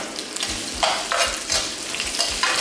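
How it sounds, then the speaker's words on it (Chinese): Scallions and cilantro stir-fried in hot oil in a wok for a Chaozhou-style braised beef dish: a steady crackling sizzle with repeated scraping stirs of the spatula, close and fairly loud. "葱跟芫荽，把它爆出香味。"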